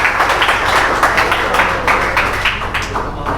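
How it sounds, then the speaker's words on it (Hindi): An open mic poetry crowd claps and cheers, a steady wash of applause with sharp individual claps popping through at a close, lively level. "थोड़ा तालियों से हौसला बढ़ा दो हमारा"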